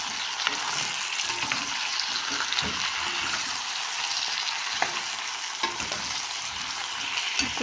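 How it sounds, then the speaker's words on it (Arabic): Chicken sautés in hot oil with onions and spices for an Iraqi chicken tashreeb, giving a steady, close crackling sizzle with scattered pops throughout. "تاخذ لها حمسة وأذب البهارات"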